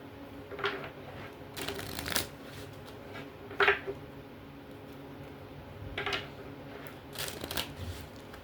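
Oracle cards being shuffled by hand produce soft, scattered riffles and slaps in several short bursts with quiet pauses between, close and gentle in a hushed room.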